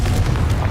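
A Confringo spell explosion in Hogwarts Legacy: a single short, deep rumbling boom, loud and close.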